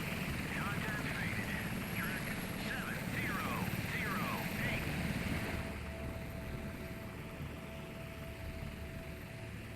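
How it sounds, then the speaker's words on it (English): Helicopter rotor drone hovering steadily over an enemy submarine in the naval warfare game Sea Power, a loud continuous whir with chirping sonar-like tones and speech over it. "Always hover your helicopter above the enemy submarine to show dominance."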